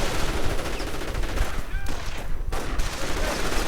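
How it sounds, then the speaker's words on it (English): Light machine gun fire from an LMG rifleman in the Company of Heroes strategy game, loud rapid bursts with other battlefield shots and brief talk over them. "LMG rifleman opening up on the Ritter Kreuzfahrt 22."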